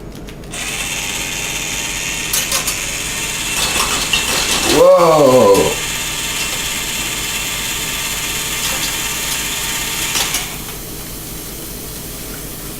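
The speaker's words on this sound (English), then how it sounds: "And now it's time for the boat motor, aka the electric drill." Electric drill whirring as it stirs chicken broth in a cooking pot, steady motor drone with a brief rising surge in the middle and a short exclamation from a person.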